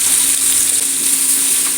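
Pieces of elephant foot yam fry in oil over a low flame, giving a close, dense and continuous sizzle with a bright hiss that stays level throughout, without talk.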